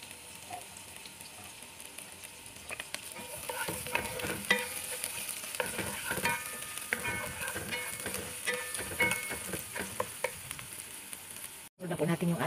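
Onion sizzling in a little oil in a frying pan while being stirred for a Filipino sautéed alugbati and sardine dish, with a steady crackle and scraping stirs throughout, close and moderately loud, with a brief dropout near the end.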